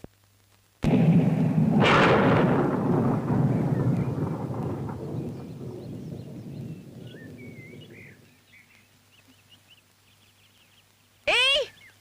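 A loud, deep thunder crack and rolling rumble from a rainy season night gradually fades over several seconds, with faint bird calls afterward and a short sharp sound near the end.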